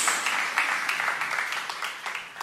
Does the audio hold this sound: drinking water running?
no